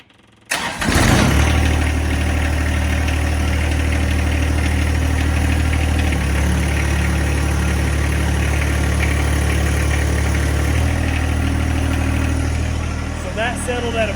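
A John Deere 2025R compact tractor cranks and fires, then its diesel engine settles into a steady, loud, close idle with a slight shift in pitch partway through, with brief talk from someone nearby near the end.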